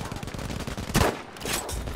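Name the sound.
gunfire and explosions in video game PUBG/Battlefield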